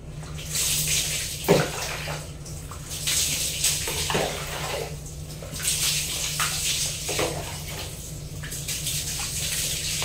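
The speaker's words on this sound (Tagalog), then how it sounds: "nabanlawan ko ng aking buhok" Water splashes from a basin as hair is rinsed during a bath, repeated close pours and sloshes with brief gaps between, over a low steady background hum.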